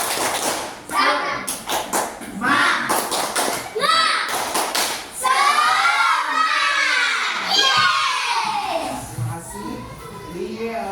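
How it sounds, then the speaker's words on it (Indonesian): Primary schoolchildren in an Indonesian classroom shout a spirited clapping cheer together, sharp hand claps up front giving way to loud massed children's voices chanting in rhythm, close and lively. "Tepuk semangat."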